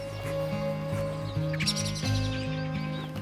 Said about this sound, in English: I can hear the birds' alarm calling already